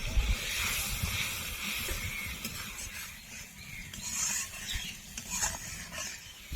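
Tomato puree with Kashmiri red chili powder sautéing in a pan, a continuous close hiss and bubbling spatter with faint stirring scrapes throughout.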